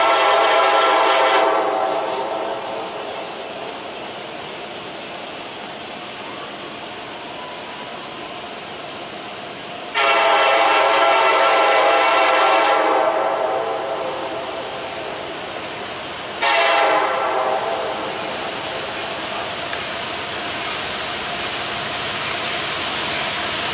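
A BNSF-led ethanol freight train rumbles loudly past, its horn sounding in several long blasts, one after another.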